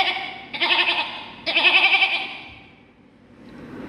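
A human voice imitates a goat bleating during a mimicry competition: two quavering, wavering bleats, loud and close, the second longer than the first, then the sound fades into quiet room noise.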